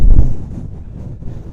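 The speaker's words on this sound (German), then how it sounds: "ist aber windig" Loud gusty wind buffets the microphone, a heavy low rumble that eases slightly after a strong opening burst.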